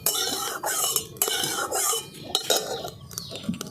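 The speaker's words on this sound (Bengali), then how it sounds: "আমি কড়ার চারদিকে ঘিটাকে একটু ছড়িয়ে দিচ্ছি।" Metal spoon spreading ghee around a kadai while making carrot sandesh, close repeated scraping and clinking of spoon against the pan in uneven strokes with brief pauses, no talking.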